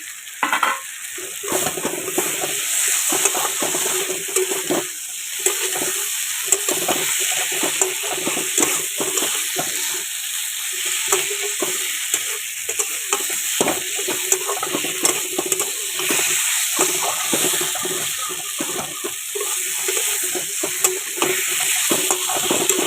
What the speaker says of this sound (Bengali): এবারে আলুগুলো দিয়ে একটু কষিয়ে নিচ্ছি।